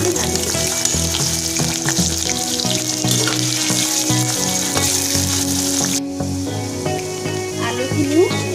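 Large potato chunks fry in hot oil with a steady, dense sizzle that stays fairly loud throughout and eases slightly near the end. No one speaks.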